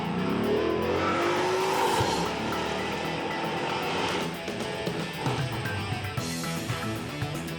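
Race car on a track, driven with hand controls by an Army veteran competing in a televised event: a loud, continuous engine roar with a tire squeal and shifting pitch as it runs past, no talk.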